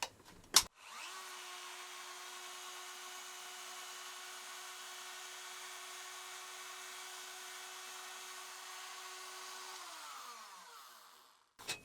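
A Dremel rotary tool fitted with an engraving burr whirs up after a click, holding a steady high-pitched motor whine before spinning down and stopping.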